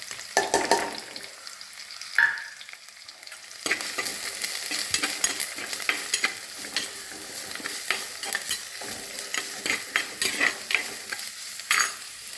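Ginger and garlic frying with curry leaves in a hot pan, a steady bright sizzle with repeated scraping stirs close by, louder bursts as the pieces hit the oil, no voices.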